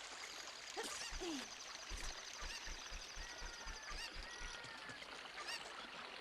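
Cucco chickens from Zelda: Ocarina of Time, in a randomizer run, squawk and cluck in short, close bursts over steady game ambience, with a rhythmic patter of soft thumps running underneath and no voices.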